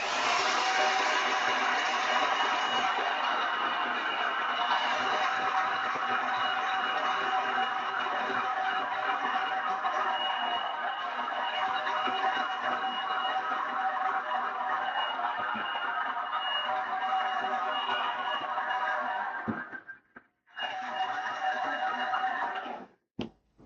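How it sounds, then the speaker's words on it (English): A steady, loud blowing whir runs for about twenty seconds, then sputters off and on briefly before stopping. "Just going to use the hairdryer on these. Sorry, this is loud for a moment."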